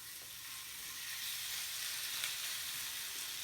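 Aromatics for Japanese ebi chili shrimp frying in a pan, a steady soft sizzle that stays faint and even throughout with no voices.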